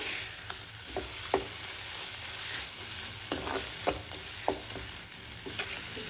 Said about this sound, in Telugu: ఒక 5 నిమిషాలు సన్నటి మంట మీద మగ్గనివ్వాలి పచ్చడి